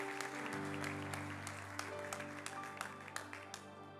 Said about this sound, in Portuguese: Aplauda bem forte o nome do nosso Deus.